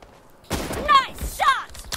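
Gunfire from PUBG Mobile, a sharp burst starting at mid-clip with further shots and echoing crackle, heard under voices of players chatting over game audio.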